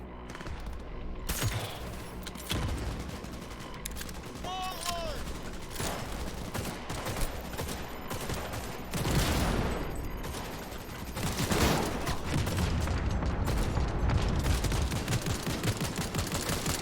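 Game gunfire in Cyberpunk 2077, a steady fusillade of rapid shots and bursts throughout, with louder volleys surging in the middle and near the end amid busy background sound.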